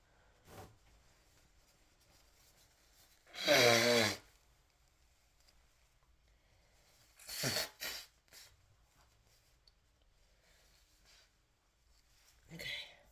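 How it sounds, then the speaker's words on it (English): A person blows their nose in short, forceful bursts, with one strong honk early on and a few weaker blows following, each separated by quiet pauses, close by in an otherwise still room. "excuse me while I blow my nose"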